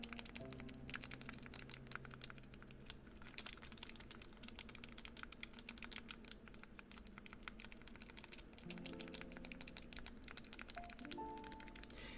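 Fingers tap rapidly on a clicky keyboard, soft close-up keystrokes in a steady busy stream throughout with faint tones in the background.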